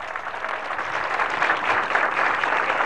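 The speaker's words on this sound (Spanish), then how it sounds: "Fuerte los aplausos, por favor." A crowd at a public social housing handover event in Tarija, Bolivia, applauds loudly and steadily, a dense wash of clapping that builds slightly over a few seconds.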